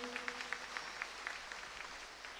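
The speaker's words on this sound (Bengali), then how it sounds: "জোরের আমরা হাততালি করি।" A church congregation clapping at a convention service, a faint, fairly steady run of hand claps heard from a distance in a reverberant hall, lasting about two and a half seconds.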